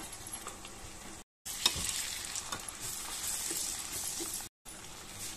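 Chopped coriander and mint sizzling in hot tempering oil for aloo biryani, a bright crackling fry with stirring scrapes, broken by two brief silent cuts.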